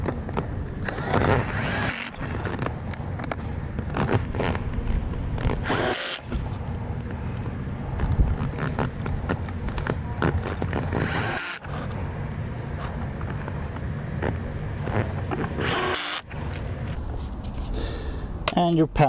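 A power drill drives screws into a rear spoiler switch panel cover in a car interior, running in repeated bursts with brief pauses, fairly loud and close under ongoing talk.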